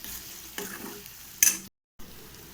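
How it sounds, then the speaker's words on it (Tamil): Curry leaves fry with mutton in a kadai for mutton sukka, giving a close, steady sizzle with bursts of stirring scrapes, then a brief total dropout before the frying resumes. "இதுவும் நான் கருவேப்பிலை நல்லா வதங்கிக்கிட்டே இருக்கட்டும்"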